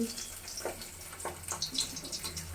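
Fish fries in a pan of oil with a soft, steady sizzle broken by quick spitting crackles, quiet and close.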